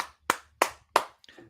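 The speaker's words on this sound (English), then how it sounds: "give it a clap" Three sharp, evenly spaced hand claps, close and loud, followed by a brief faint rustle.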